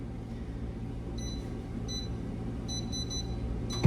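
A microwave oven runs close by with a low, steady hum, while several short, high electronic beeps sound over it in small clusters.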